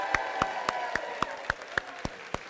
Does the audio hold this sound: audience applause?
yes